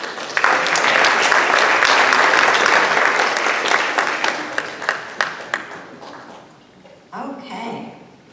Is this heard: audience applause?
yes